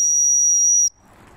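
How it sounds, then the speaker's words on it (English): A dog-training whistle gives one long, loud, steady high-pitched blast that cuts off sharply, leaving quiet background afterward. "I'm going to blow my whistle again because the whistle just basically tells them that a treat is coming."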